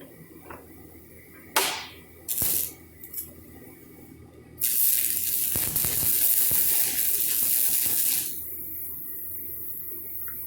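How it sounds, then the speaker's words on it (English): Stick welding a tack weld with an electrode in a holder in a welding shop: a few brief knocks, then about three and a half seconds of loud, steady crackling arc hiss that cuts off abruptly. "I'm going to set this in place and get a tack weld on it."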